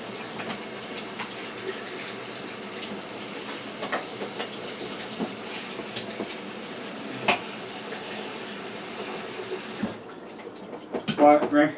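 Tap water runs steadily over vegetables in a kitchen sink, a continuous hissing stream heard close by for about ten seconds before it cuts off, followed by a few brief clatters.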